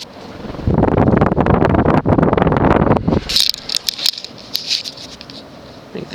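An Emerson Legend Petite 42-inch ceiling fan spools up with a loud, rushing whoosh of moving air, then drops away to a softer whir broken by a few light ticks and taps.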